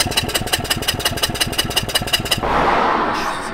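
A van engine with a suspected blown piston knocks in a loud, steady, rapid metallic clatter of evenly spaced beats for over two seconds. It then cuts into a broad rushing hiss.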